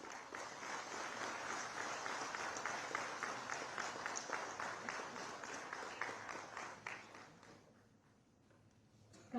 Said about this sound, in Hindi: मैं चाहूंगी जोरदार तालियों के साथ हम स्वागत करेंगे हमारे मंचासीन महानुभावों का।